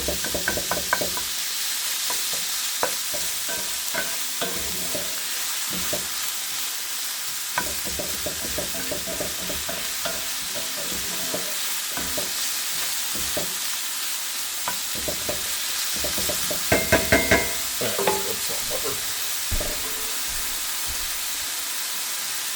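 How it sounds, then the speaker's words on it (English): Ground pork and other ingredients frying in a pan, a steady sizzle running throughout with repeated scraping and knocking of a utensil as the food is stirred, close and moderately loud. "Stir everything together a little bit here."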